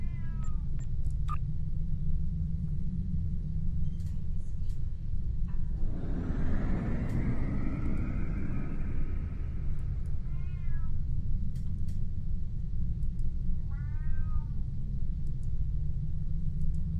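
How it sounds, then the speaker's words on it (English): A cat meows repeatedly in the background, giving a drawn-out cry followed by shorter meows, over a constant low rumble from a PC game session. "Hearing my cat in the background, he's just wanting his daily treat"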